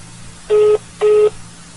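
Two identical electronic telephone beeps, evenly spaced about half a second apart, sound clearly over a faint low hum.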